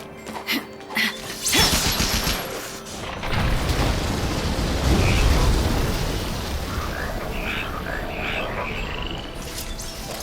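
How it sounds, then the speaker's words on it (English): An explosion in Final Fantasy XIII lands as a sudden loud burst near the two-second mark, followed by a long rumbling, crackling tail that slowly fades under lighter game effects. "Explosion."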